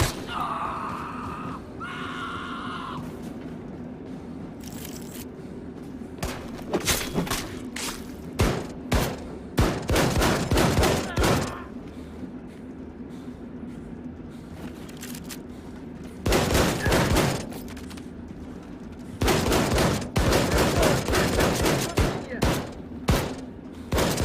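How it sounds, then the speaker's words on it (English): Weapons fire in the game Wolfenstein II: The New Colossus, loud bursts of rapid shots broken by short pauses over a steady droning background, with a voice briefly crying out near the start. "Shred your opponents with powerful shotguns, plasma guns, laser rifles"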